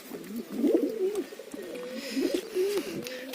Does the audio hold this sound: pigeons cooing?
yes